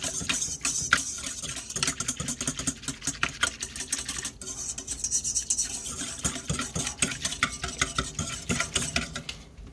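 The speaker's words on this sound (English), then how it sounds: "you like my little egg whisk?" Small old egg whisk beating ingredients in a bowl for cinnamon rolls, a fast continuous rattling clatter of metal wires against the bowl, close and busy, with a brief pause partway through and no talking.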